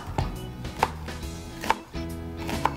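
A knife chops onion on a cutting board in a kitchen while vegetables are prepared for a dish of seasoned dried saury. Four sharp, evenly spaced chops ring out close by with a low background hum between them, and no one speaks.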